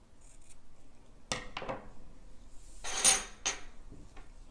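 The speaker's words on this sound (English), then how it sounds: "if you have uneven ends at the bottom, you just trim them to make them even." Scissors trimming uneven yarn fringe ends on a crochet shawl, giving a handful of close, crisp snips and metallic clicks spread across the moment, fairly quiet with no voices.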